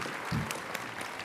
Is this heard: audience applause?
yes